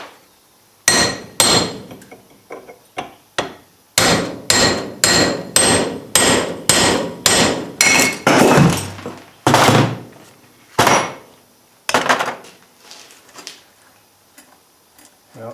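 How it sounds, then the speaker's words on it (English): Hammer blows whack apart a 2022 Toyota Tundra front wheel bearing: a long series of sharp, loud metallic strikes in an uneven rhythm, some quick runs and some spaced pauses. "Let's just try whacking it apart."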